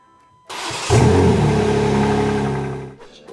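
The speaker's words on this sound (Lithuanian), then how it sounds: "užkūrėm variklį" A BMW M4 G82 Competition engine starts with a sharp crank and catch, then settles into a loud, steady idle rumble close by before cutting off abruptly near the end.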